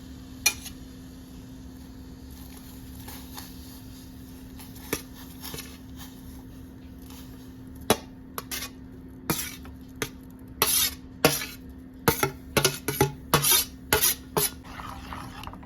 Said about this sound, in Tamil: அப்படி கெட்டியாக கிளறிட்டே இருக்கணும்.